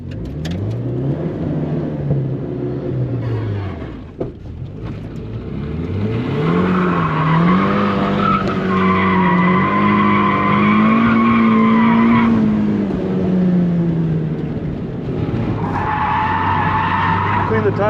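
Nissan NISMO 270R drifting, with long tire squeals and skids rising and falling over a loud, revving engine that continues throughout, close and steady.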